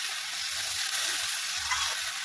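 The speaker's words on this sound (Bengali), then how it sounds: "সেই কচুটা দিয়ে একটু কষিয়ে নেব" Elephant foot yam frying in oil with rohu fish paste, a steady close sizzle with faint stirring and bubbling, no voices.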